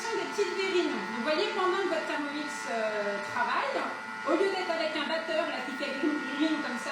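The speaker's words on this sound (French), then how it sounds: "pendant que votre Thermomix travaille" A Thermomix food processor whirring steadily in the background while someone talks over it continuously, the motor a faint even buzz beneath her voice.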